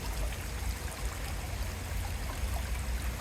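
Continuous rushing water pouring and splashing steadily, a close park waterfall in Aliyev Square, Kyiv, filling the scene with constant broadband noise.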